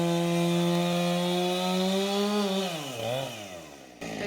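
A battery-powered chainsaw cutting down a small tree on a farm, a loud steady motor whine that holds for about two and a half seconds, then bogs and wavers as the blade works through the wood, with a sharp shift near the end.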